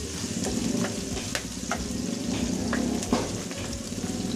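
Garlic frying in oil until golden brown, a steady close sizzle with occasional stirring clicks and scrapes, no talking.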